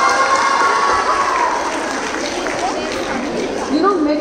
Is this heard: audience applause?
yes